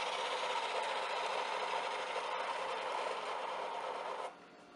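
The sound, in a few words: inline skate bearings spinning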